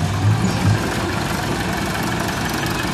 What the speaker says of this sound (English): It's rather unique homemade timber tractor